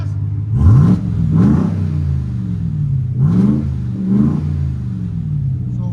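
A Ram TRX engine revs with stock tailpipes and no Flowmaster tips, four loud rising blips, each sinking back into a deep, steady idle rumble close by.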